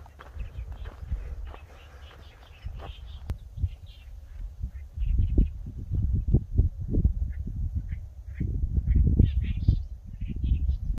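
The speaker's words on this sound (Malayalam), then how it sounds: "ഇവിടെ വന്നപ്പോഴത്തേക്ക് ധാരാളം കിളികളുടെ ശബ്ദം കേൾക്കുന്നുണ്ട്." Many birds call with short, scattered chirps across an Abu Dhabi wetland reserve, under louder low footsteps and rustling close by. No one speaks.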